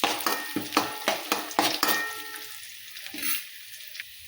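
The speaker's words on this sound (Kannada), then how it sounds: "ಒಣ ದ್ರಾಕ್ಷಿ ಇದನ್ನೆಲ್ಲ ಕೊಟ್ಟು ಚೆಂದಾಗಿ ಸ್ವಲ್ಪ ಕಲರ್ ಚೇಂಜ್ ಆಗೋದನ್ನು ತಿರುವಾಡ್ತೀನಿ ನೋಡ್ರಿ" Raisins frying in ghee in a pan for rava laddu, stirred with a utensil in a steady series of scraping strokes over a soft sizzle that thins out toward the end.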